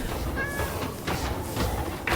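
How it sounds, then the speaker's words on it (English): Cats meow in modded Minecraft, a short clear call rising over dense, steady game background noise, fairly close and loud. "Oh, look at the cats."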